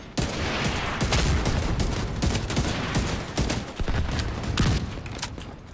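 Rapid, continuous bursts of gunfire in a video game raid, with dense overlapping shots and sharp cracks that are loud and close and continue without pause for the whole stretch.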